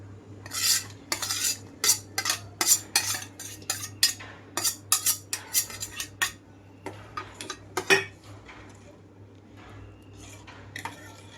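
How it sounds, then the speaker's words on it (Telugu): A metal spoon stirs flattened rice (poha) into boiling milk in a pot, making a rapid series of sharp scraping clinks against the pot that slow and fade into quiet simmering. "ఇందులోకి అటుకులు వేసేసుకుంటున్నాను."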